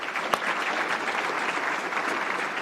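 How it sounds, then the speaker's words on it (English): Sustained audience applause at an annual meeting awards presentation, an even, full roar of many hands clapping together at moderate distance, with no talk over it. "let's have another round of applause for the NA Member Awards"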